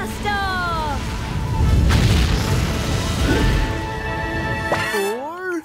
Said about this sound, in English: blast off!